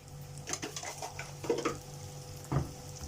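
A spoon stirs sliced onions seasoned with salt in a frying pan, giving soft continuous sizzling with irregular scrapes and a couple of louder knocks against the pan, close and without talk.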